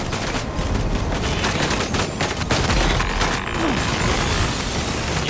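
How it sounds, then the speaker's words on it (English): Cannon fire support rains down in the video game Death Stranding 2, a dense, continuous barrage of booms and crackling impacts that stays loud throughout. "Stranding's main cannon is online and ready to provide fire support."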